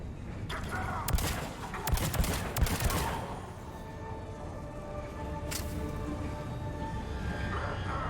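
Pistol gunfire in a video game: a cluster of sharp, loud shots in quick succession early on, then settling into a steady, quieter background rumble with one more faint crack later.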